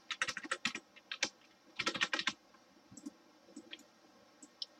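Quick clicks and keystrokes on a computer keyboard during an Unreal Engine 4 Blueprint tutorial, close and fairly quiet, coming in a fast cluster, a second burst and then scattered single taps, with no talk.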